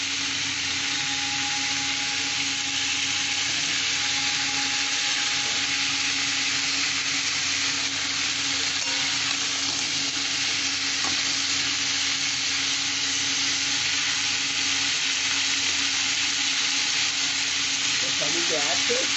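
Mixed vegetables sizzle steadily in a pan for a light vegetable curry with chana dal fritters, a constant even hiss with occasional stirring scrapes, close and fairly loud, with no talking.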